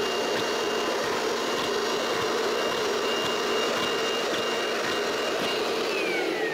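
A homemade ping pong ball shooter run in reverse as a vacuum, drawing balls up through plastic pipe: a loud, continuous blower roar with no talk, with faint knocks that may be balls passing through the tube.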